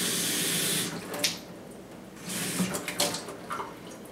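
Water runs from a kitchen faucet into the sink, a loud rushing stream that stops, then returns in shorter uneven splashes and spurts nearby.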